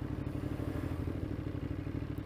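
A 2021 Ducati Monster motorcycle rolls along at very low speed, its engine giving a steady, fairly quiet low throb with faint mechanical clatter and no talk.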